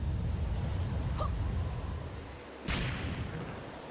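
Bomb flowers explode in The Legend of Zelda: The Wind Waker HD, a single sharp blast cracking out of a steady rushing background, followed by a brief rumble.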